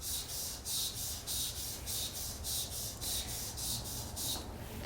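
Hand wet sanding of clear coat on a Honda S2000 panel, heard as steady rhythmic back-and-forth rubbing strokes, about ten passes close up, loud and regular with no talking.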